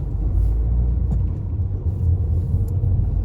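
A car pulls away from a road junction on a driving test route in the Netherfield area, a low, steady engine rumble holding close and even throughout.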